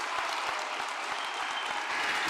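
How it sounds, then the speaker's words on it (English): A crowd applauds at the close of a presentation, a steady, even wash of many hands clapping, heard from a moderate distance and fairly quiet. "Big round of applause for Bob Knodel"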